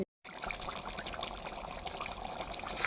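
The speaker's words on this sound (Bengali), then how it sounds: "গরম জল দিচ্ছি, কারণ আমার সব রান্নাতেই একটু আমি গরম জল দিই।" Hot water pours into a pot of cooking mutton, a steady close trickling and splashing stream that runs continuously after a brief silent start.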